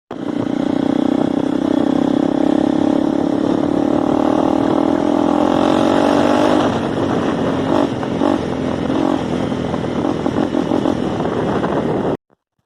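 Honda CRF300L dual-sport motorcycle with a rebuilt FMF exhaust, ridden off-road: a loud, close engine note rising steadily under throttle, then dropping into a choppier, burbling rhythm as the rider eases off, with no talk.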